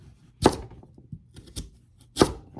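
A knife chops through raw sweet potatoes into big chunks on a cutting board, with three or four firm, separate thunks at an uneven pace and no talking.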